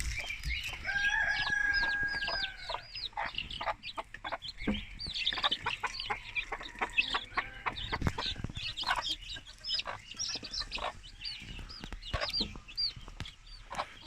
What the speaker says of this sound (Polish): może już słyszycie kurczęta